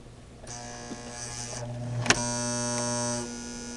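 A Singer 6212C sewing machine stitching a wide zigzag, its motor whirring up into a steady mechanical drone with a sharp click partway through, running close and loud for a few seconds.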